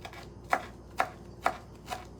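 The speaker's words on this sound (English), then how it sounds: "This will be easy to chop because the leaves are beautiful." Knife chopping through a rolled bundle of fresh herbs on a cutting board, four soft, evenly spaced thuds about half a second apart, close and fairly quiet, with no talking.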